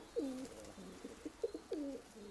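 A pigeon cooing softly, a few low throaty rolling coos in quick succession, faint against a quiet background.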